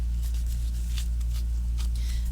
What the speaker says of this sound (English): sometimes it's good to riffle shuffle a few times, then cut, then riffle some more